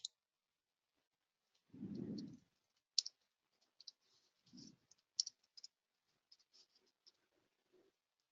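Sharp, quiet clicks of a computer mouse scattered in short bursts against near silence, with one brief low rustle early on and another midway, during Blue Prism RPA software work.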